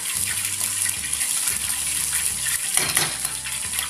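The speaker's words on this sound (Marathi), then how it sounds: "इकडं तेल तापलेलं आपल्याला तर याच्यामध्ये आपण हाफ लसूण व हे शेंगदाणे करून घेऊया हे सगळं छान परतून घ्यायचं" Garlic and peanuts frying in hot oil for Mumbai-style vada pav: a steady, dense sizzle and bubbling heard up close, with a low hum underneath and a brief stirring burst near the end.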